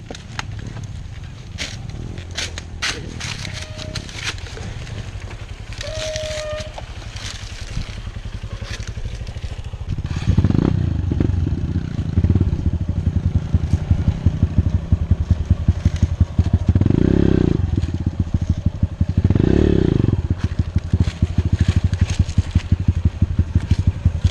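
An off-road dirt motorcycle revs through a burnt forest, its engine rising from a low idle into loud, repeated throttle surges with rattling clatter in the second half, while a voice speaks briefly near the start.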